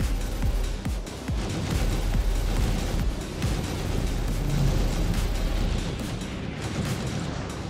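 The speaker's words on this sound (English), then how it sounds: "I start hitting it with the guns on the side that has the shield still." Rapid ship-mounted guns hammer a shielded ship in Star Citizen, dense repeated booming bursts over a deep continuous engine rumble, loud and close throughout.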